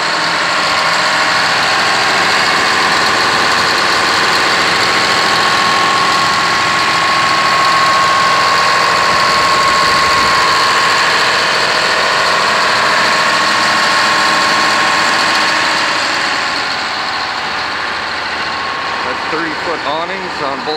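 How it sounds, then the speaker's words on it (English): A 1979 Flyer transit bus converted to a motorhome idles with its Detroit Diesel 6V71 engine, a steady, loud, droning rumble with a faint whine, continuous throughout and easing slightly near the end, with someone talking over it. "You can hear it has a very nice running 6B71 trans engine"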